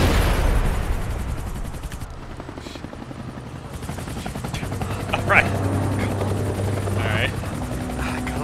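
A helicopter's rotor thrums continuously with a low drone in Max Payne 3, while gunfire bursts and impacts crack over it and voices talk briefly.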